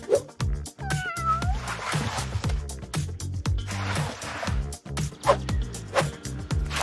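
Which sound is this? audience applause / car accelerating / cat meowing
cat meowing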